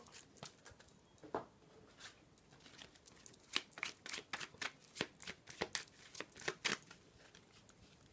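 Playing cards being drawn and shuffled close by: soft riffling and quick snapping flicks that build into a dense rhythmic burst of card slaps, with no speech.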